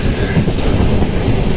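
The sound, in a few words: Panchaganga Express train running on the rails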